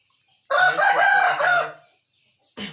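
An Aseel rooster crows close and loud in a single drawn-out call of about a second and a half, its voice breaking into several segments, then begins another crow that is cut off.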